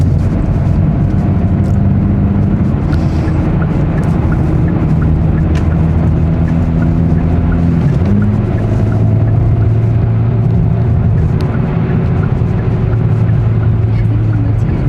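A manual Hyundai Avante N picks up speed, its engine a steady loud drone with low rumbling tones shifting in pitch around the eight-second mark, heard from inside the car with no talking.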